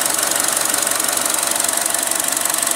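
A 2015 Chevrolet Cruze with a 1.4 L turbocharged four-cylinder runs at a loud, close idle, its fast, even ticking pulse steady throughout.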